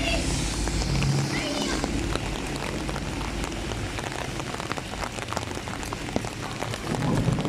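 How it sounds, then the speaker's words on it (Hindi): Steady rain pours onto a road and a home garden, a dense close patter of drops hitting surfaces throughout, while children and an adult talk over it. "रोड पे कैसी बारिश हो रही है"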